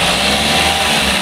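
A Suzuki Ertiga engine running close by with an abnormal noise, a steady loud mechanical drone with a faint ticking edge, continuous and unbroken.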